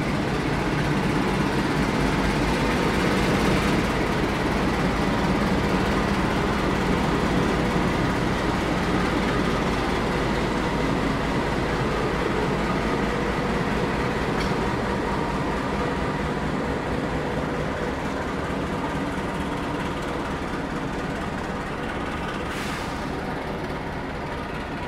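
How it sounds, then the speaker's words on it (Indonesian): The Ranggajati passenger train running from Cirebon to Jember rolls into Kebumen station on track 4, a loud sustained rumble with wheel noise and occasional sharp clanks as the carriages pass close by. "Yang masuk di jalur 4 itu adalah kereta api Ranggajati dari stasiun Cirebon tujuan ke stasiun Jember"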